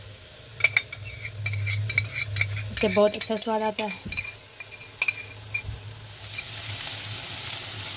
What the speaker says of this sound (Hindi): इसमें अदरक लहसुन का पेस्ट डालेंगे 1 चम्मच